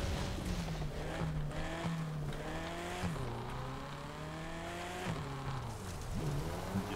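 A BMW M5 F90 slides sideways on an off-road track, its engine revving hard and steadily with repeated pitch swings as the throttle is worked, loud and close throughout.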